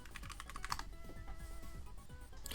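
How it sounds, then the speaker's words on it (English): Keys clatter steadily as a command is typed on a computer keyboard, a run of quick, close taps with no talking. "what we're going to do is type ADB reboot bootloader"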